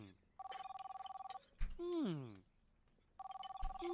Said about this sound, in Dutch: Ik hoor de hele tijd een telefoon!